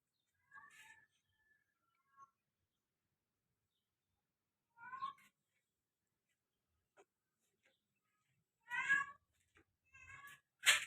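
A mother cat meows from inside a washroom in a quiet home, several separate calls spaced a few seconds apart, some brief and some longer, clear against near silence.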